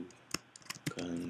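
Computer mouse clicks during software work: a few soft, sharp clicks, close and quiet, with a voice starting up at the end.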